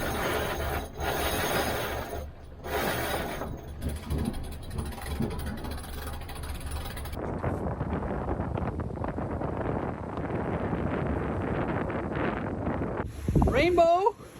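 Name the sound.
heavy wind on a sailboat at sea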